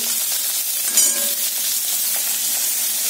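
Prawns fry in a pan with a loud, constant hissing sizzle that fills the whole stretch, with one brief clink near the start.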